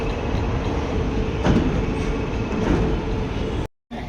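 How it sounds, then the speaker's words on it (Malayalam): Duronto Express heading toward Delhi, heard from inside a sleeper class coach: a loud, steady rumble of the running train with faint rhythmic wheel clacks, cut by a brief dropout near the end. "ട്രെയിന് ഡൽഹിയിലേക്ക് പോയിക്കൊണ്ടിരിക്കുകയാണ്"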